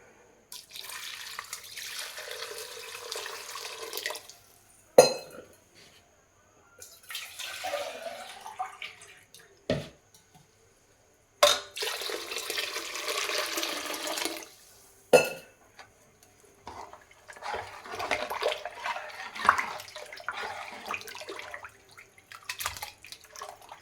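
Water pours into a pressure cooker holding sprouted horse gram for sambar, coming in four or five separate gushes of several seconds each with short silences between them, close and clear.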